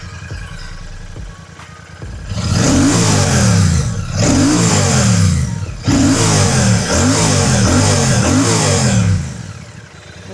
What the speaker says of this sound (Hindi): So this is how the motorcycle sounds.